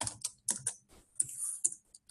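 Quick, uneven clicks of typing on a computer keyboard, close and fairly quiet, with short bursts of keystrokes separated by brief pauses and no talking.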